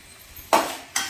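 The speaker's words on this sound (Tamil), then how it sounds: "வதக்கி விடுங்க." Bitter gourd with turmeric stirred in a pan, two quick scraping strokes of a spoon against the metal, close and short.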